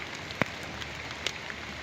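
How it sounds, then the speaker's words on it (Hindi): Heavy rain falls in Karak as a steady, soft hiss of drops on surfaces, with a couple of sharper isolated splashes standing out. "करक में आज फिर ज़बरदस्त बारिश है"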